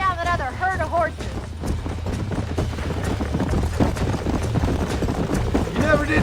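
Horse hooves clip-clop steadily during a ride in the video game Red Dead Redemption, a continuous trotting rhythm blended with wind noise and music, with brief voice-like tones at the start and end.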